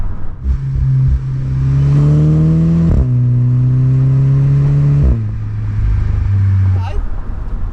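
A Volkswagen MK6 GTI with a catback exhaust revs close by, a strong droning note climbing and dropping across several pulls of the throttle, a deep, loud tone alone without talk.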